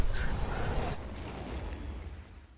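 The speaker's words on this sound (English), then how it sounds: "Gonna do a Widow Mine drop at its own natural. It's going to drop him" A Widow Mine detonates in StarCraft II, one loud explosive burst that cuts off after a second and leaves a fading rumble.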